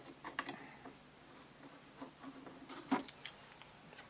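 A screwdriver works long screws out of the cover of a 1947-48 STC jellymold valve radio, giving faint, scattered mechanical clicks and ratcheting ticks, quiet and close.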